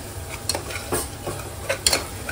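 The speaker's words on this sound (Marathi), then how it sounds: "मसाले चांगले 1 मिनिट परतून घ्यायचे, मिक्स झाले पाहिजे चांगले, साईडला तेल सुटलं पाहिजे." Spices for mutton biryani are sautéed in oil in a pan over low gas, with a spoon scraping and stirring in quick strokes over a soft, constant sizzle.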